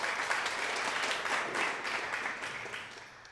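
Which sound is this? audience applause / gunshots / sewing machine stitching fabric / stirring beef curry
audience applause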